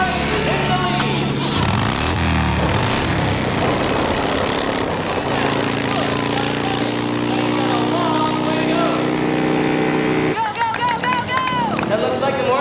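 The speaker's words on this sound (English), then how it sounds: "They're firing the machines up now." Racing machines' engines fire up and rev at the start of a race, a loud mix of buzzing, lawnmower-like motors running continuously, with a voice talking over them throughout.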